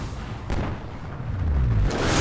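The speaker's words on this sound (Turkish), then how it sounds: "Çok kötü patladı." A deep, rumbling explosion in Call of Duty: Ghosts swells and roars, with heavy low booms building toward the end and no talking.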